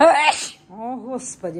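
A single loud, abrupt sneeze bursts out at the very start, then a person speaks in a relaxed, close voice.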